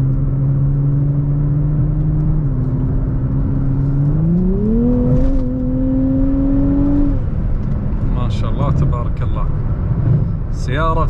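A 2024 Nissan Z with active sound, a 400-horsepower engine, drones steadily while driving, its pitch holding, then climbing as the car accelerates before easing off, with some clicks and rattles near the end.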